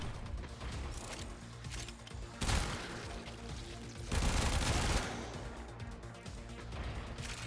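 Heavy-recoil weapon fire in Warframe, dense bursts of gunshots rattling in rapid succession with louder surges midway, continuous and close throughout.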